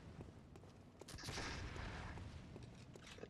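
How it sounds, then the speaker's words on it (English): Bursts of gunfire from ranged enemies in the video game Bloodborne, a dense, rumbling run of shots with a swelling roar in the middle, fairly faint overall. "Getting shot at, whatever."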